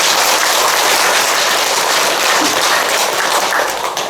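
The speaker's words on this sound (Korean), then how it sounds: "여러분 스스로에게 박수를 한번 보내십시오." An audience at a Buddhist dharma talk on chanting practice and Pure Land faith claps loudly and steadily for a few seconds, a dense, even patter that tapers slightly at the end.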